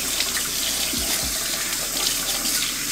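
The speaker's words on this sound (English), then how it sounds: "I pop this out just so I can rinse the entire thing. Literally, I just rinse it." Tap water pouring steadily into a sink as a removable part of a Casabrew 5700 Gense espresso machine is rinsed under it, a close, continuous splashing rush.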